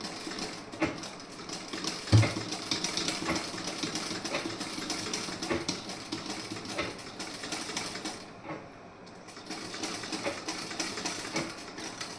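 A sewing machine stitches the back and sleeve of a garment through fabric trimmed with pearls. It runs as a steady, close mechanical whirr with a short pause partway through, and no one speaks.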